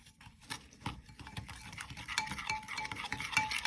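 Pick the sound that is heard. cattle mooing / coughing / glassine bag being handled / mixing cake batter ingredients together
mixing cake batter ingredients together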